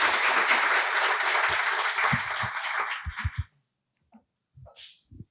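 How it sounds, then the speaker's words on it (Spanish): A conference panel audience applauds for a speaker, steady clapping for about three seconds before thinning to a few scattered claps, followed by brief quiet and light handling noises. "Un aplauso para él."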